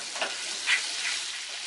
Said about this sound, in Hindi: कढ़ाई में 1 टेबलस्पून देसी घी डालेंगे, 1 टेबलस्पून बटर।